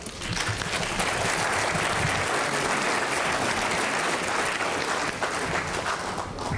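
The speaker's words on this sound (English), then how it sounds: "Very good, you can applaud." Spectators at a high school quiz match applaud a correct answer with a full burst of crowd clapping that holds steady and loud for several seconds, then thins slightly near the end.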